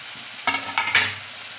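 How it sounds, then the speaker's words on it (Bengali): Ginger-garlic paste, chopped tomato and green chili go into hot oil in a pan, giving a sudden close sizzle and a few stirring scrapes over about a second, then a quieter hiss. "এবার একটু ভেজে নেব, পেস্ট দিচ্ছি, ছেঁচে নিয়েছি আদা রসুন। এবার টমেটো কুচি দিয়ে দিচ্ছি"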